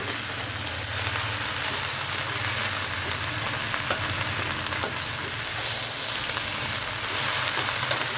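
Okra and onions with salt frying in an iron pan, giving a continuous close sizzle with faint crackles and stirring sounds throughout, no talking.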